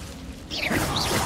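Incendio fire spell cast in the video game Hogwarts Legacy: a brief quiet lead-in, then a sudden whooshing burst of flame with crackling and a swishing trail that lasts to the end.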